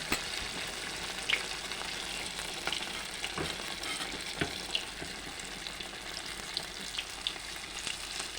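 Jackfruit fritters sizzle steadily in hot oil, a dense continuous frying hiss with small pops and crackles scattered throughout, close and fairly loud with no talking.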